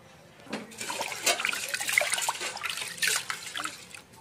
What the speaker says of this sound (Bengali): তাই চালগুলো আমি ধুয়ে ভালো করে ধুয়ে কতক্ষণ ভিজিয়ে রেখে দেবো